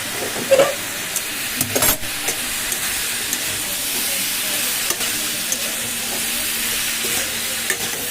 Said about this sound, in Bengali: এটা ভাজা হোক, একটু ভাজা ভাজা হলে তখন সব রকম মশলা দেবো এর মধ্যে